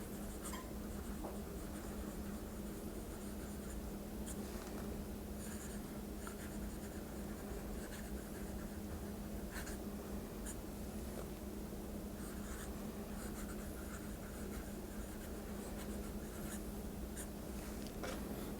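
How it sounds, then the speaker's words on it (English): A fountain pen nib with lubricated ink scratching across paper, a continuous close, faint rasping with small irregular strokes and flicks, no talking. "it sings a little bit, the nib on the paper"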